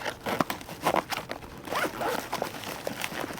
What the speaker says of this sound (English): Where's the zipper to this guy?